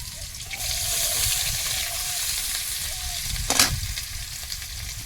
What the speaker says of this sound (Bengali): একটু পেঁয়াজ কুচি দেবো তেলের মধ্যে